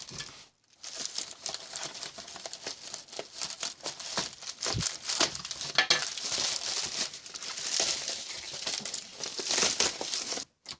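Crinkly plastic packaging of a Speck CandyShell case for an iPod Touch 4 being unwrapped by hand, with continuous close rustling, crackling and tearing in irregular bursts, no voice.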